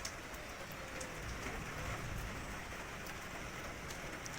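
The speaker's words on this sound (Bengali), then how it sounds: "হঠাৎ করে দেখলাম বিদ্যুৎ চমকাচ্ছে আর বৃষ্টি শুরু হয়ে গেল।" Rain from a sudden thunderstorm, with hail reported, falls as a faint, steady, even hiss with scattered drop taps, heard from a distance and alone.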